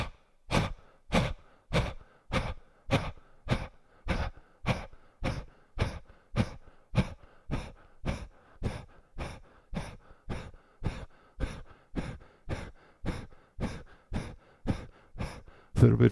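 Forceful breathing exercise in a yoga class, with sharp rhythmic exhales repeated roughly every half second in a long steady train of about thirty bursts, close and clear, with no talk.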